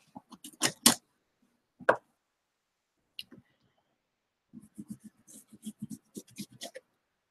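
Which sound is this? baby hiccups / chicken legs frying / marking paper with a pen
marking paper with a pen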